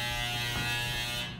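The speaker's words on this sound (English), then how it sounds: "My washing machine makes a pretty horrible sound when it's done." A washing machine sounds its end-of-cycle signal, a steady harsh electronic buzz that holds for about a second and a half, loud and close, with no talking.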